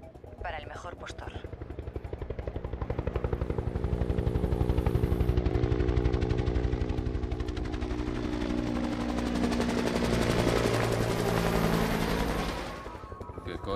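A helicopter roars overhead in an action film scene while loud, rapid machine-gun bursts rattle continuously, and voices shout over the din before the noise fades near the end.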